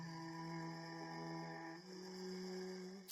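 A synth chain with a low octave layer sustains a thick, steady chord drone in an electronic build section, holding evenly for about three seconds and ending in a sudden bright burst.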